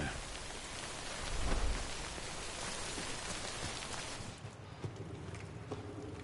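Steady rain pouring in the video game Death Stranding Director's Cut, a dense broadband hiss with a brief low rumble near the start, easing slightly toward the end.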